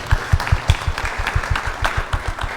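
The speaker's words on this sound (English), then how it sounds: "Please give her a round of applause." Audience clapping at a Sunday temple gathering, a small group giving a round of applause with distinct rhythmic hand claps, close and fairly loud, the beats keeping an uneven steady pulse.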